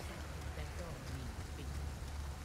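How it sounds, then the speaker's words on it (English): Steady rain in the game Resident Evil 4 Remake, a dense continuous hiss of falling drops on surfaces, even and unbroken, fairly quiet and enveloping. "It's raining, I get it."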